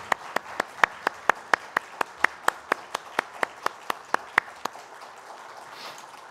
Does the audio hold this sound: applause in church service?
yes